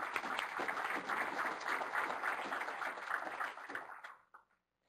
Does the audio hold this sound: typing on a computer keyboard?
no